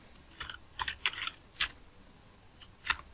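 Typing on a computer keyboard into a web browser, heard as a short sparse series of close, quiet key clicks, some in quick pairs, with no talking.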